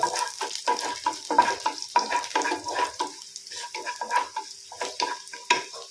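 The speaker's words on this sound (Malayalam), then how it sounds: "ഇനി നമുക്കിതിലേക്ക് കറിവേപ്പില ചേർക്കാം" Curry leaves hit hot oil in a pan for a dried mackerel and brinjal curry, crackling and sizzling in short bursts with a spoon stirring and scraping, close and fairly loud, no talk.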